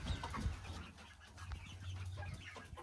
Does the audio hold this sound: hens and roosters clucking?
yes